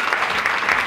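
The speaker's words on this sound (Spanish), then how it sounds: "Un aplauso para ella." An audience at a public event in Mexico applauds, a dense, steady wash of clapping from many hands, close and sustained throughout.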